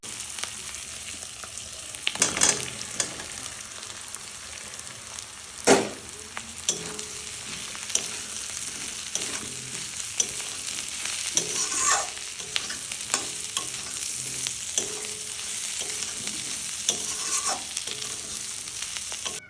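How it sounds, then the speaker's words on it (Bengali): Masala of tomato, dried red chilli paste and ginger-garlic paste stir-fried in oil in a pan: a continuous bright sizzle with repeated scraping strokes of a spatula, close and steady, no talk. "এবার মশলাটাকে ভালো করে কষিয়ে নিব"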